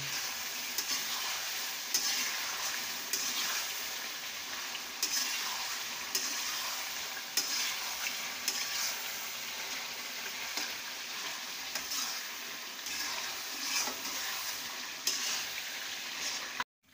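Chicken karahi sizzles continuously in the pan while black pepper powder is stirred in, with faint regular scraping clicks of the spoon over the steady frying hiss; close, even and without talk.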